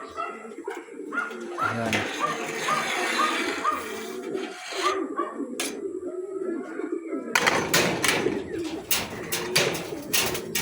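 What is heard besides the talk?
pigeons cooing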